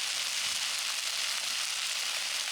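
Diced potatoes frying in a pan aboard a sailboat, a steady dense sizzle of hot oil that runs evenly and close throughout with no voices.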